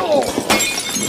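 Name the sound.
glass bumped and shattering in a film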